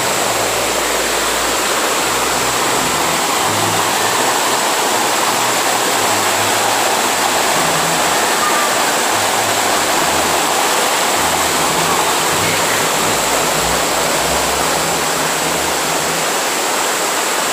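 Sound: waterfall and river rapids, Cachoeira dos Prettos, Joanópolis

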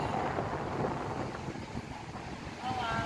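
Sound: strong wind at top of lighthouse

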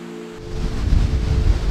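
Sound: Swallow Falls waterfall in Wales

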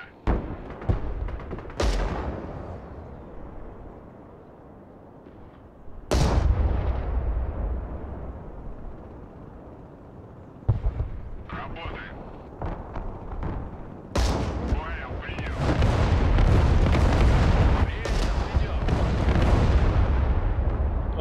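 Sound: artillery fire in video game Broken Arrow

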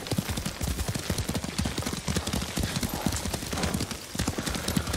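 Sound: horse hooves galloping in video game Ghost of Tsushima

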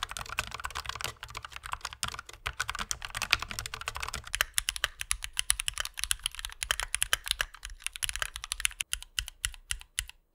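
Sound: typing on a low-profile mechanical keyboard

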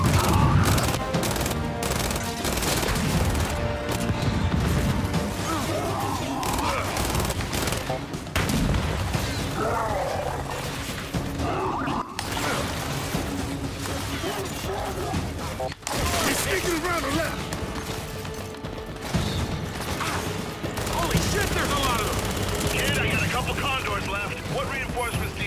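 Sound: gunfire bursts in video game Gears 5

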